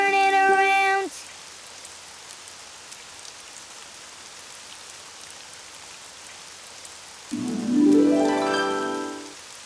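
Rain falls outside as a steady soft hiss under long stretches of quiet, with bright musical tones at the start and a rising melodic phrase near the end.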